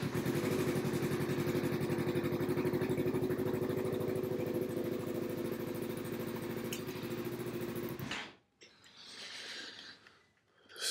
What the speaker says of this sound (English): I can start the bike.